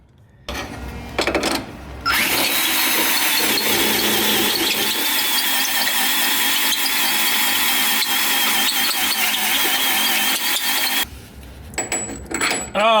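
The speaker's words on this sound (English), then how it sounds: "The nut is too big to go into the hole, but that's easily fixable with some power tools." A power tool grinds steadily for about nine seconds, loud and close, enlarging a hole for a suspension nut during a rear shock upgrade, with short bursts before and after.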